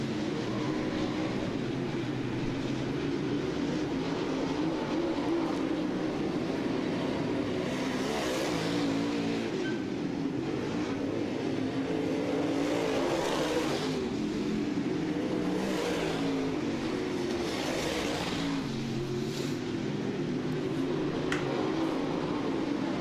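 Dirt track race cars roar around an oval at a Southern Ontario speedway in a steady, loud engine drone, with passing cars swelling and fading through the pack.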